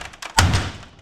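A hammer whacks a typewriter part once, giving a single loud, close thud with a dull body that fades away over about half a second, preceded by faint handling sounds.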